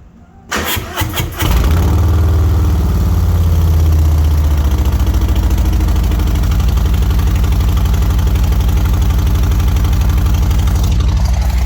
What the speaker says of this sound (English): Definitely louder. The exhaust definitely louder.